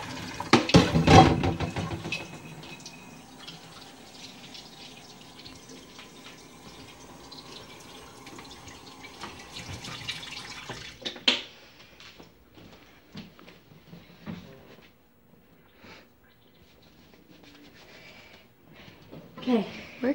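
A kitchen tap running into the sink during handwashing, a steady gushing stream for about ten seconds before it stops, with voices talking nearby.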